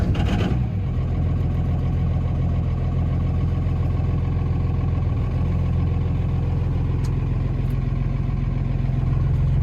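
A heavy truck engine idles with a deep, steady rumble and low clatter, loud and close, after a brief louder start, its exhaust brake not in use.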